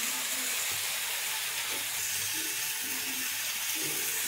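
Black cumin, onion and green chili tempering in hot oil in a pan, a steady broadband hiss and sizzle running throughout with a few faint low knocks, fairly quiet and with no talking.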